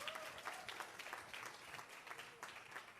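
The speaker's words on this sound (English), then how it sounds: "Let's give them a big round of applause." A round of applause for the Mrs. contestants at the India Michigan Pageants 2023, a continuous crowd patter of many hands, faint and somewhat distant, lasting a few seconds without voices.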